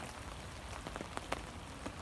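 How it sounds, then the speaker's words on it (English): Rain falls steadily on a campsite during a soaking Boy Scout trip, a faint continuous patter with a few louder individual drips scattered through it. "it's just raining."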